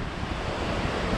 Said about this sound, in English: Yep, that wind's blowing.